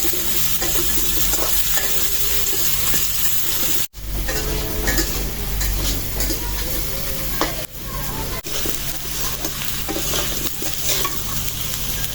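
Potatoes and onions frying in a modest amount of oil left over from frying fish, a dense continuous sizzle with clinks of a spatula against the pan, close and steady, and one brief break in the sound partway through.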